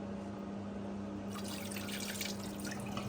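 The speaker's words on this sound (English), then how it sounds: "I'm just gonna do one last rinse." Water runs and splashes into a bowl as rice is rinsed one last time, a soft, steady trickle that swells into livelier sloshing partway through, with no talking.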